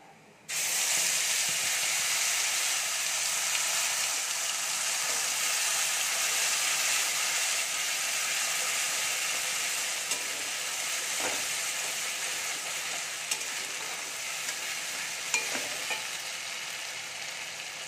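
A paste of white and black mustard with raw red chillies hits a hot pan and bursts into a loud, steady sizzle that fades slightly over time, with faint stirring and no voices.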